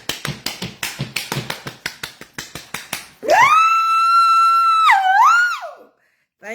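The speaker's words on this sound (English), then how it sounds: "Remember that woman that she got happy in the church and she was clapping like this." Hands clap fast and steady, about twenty sharp claps over three seconds, in an exuberant church-style rhythm, followed by a loud sustained high whistle-like tone that bends in pitch before stopping.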